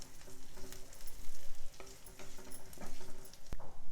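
Pieces of jonna rotte (sorghum flatbread) stirred and tossed in a hot pan, an uneven sizzle with repeated scraping strokes and a sharp utensil clack near the end, close and without talk.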